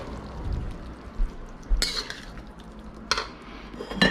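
Mapo tofu is spooned from a pan onto a serving dish, with a few sharp metallic clinks and scrapes of utensil against cookware over a low background.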